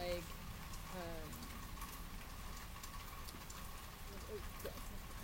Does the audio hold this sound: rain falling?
yes